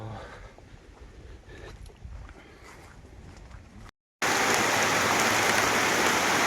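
Steady rain falls on a remote forest village among cornfields, first as a softer patter, then after a brief silence as a loud, dense, close hiss of downpour.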